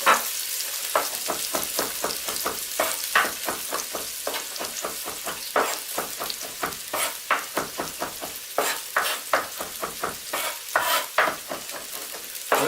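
Onions sizzling in a hot pan for marinara sauce, a steady crackling fry with rapid rhythmic scraping strokes of a spoon stirring through the pan, close and continuous.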